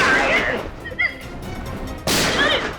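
Gunshot fired from a handgun in a tense confrontation within a Hindi crime drama, a loud sharp blast arriving abruptly near the end after a quieter stretch, with a voice heard earlier.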